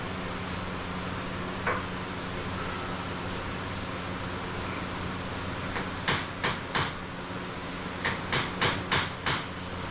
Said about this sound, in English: He's hammering on it with like a 1 ounce hammer.